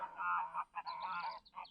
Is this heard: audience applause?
no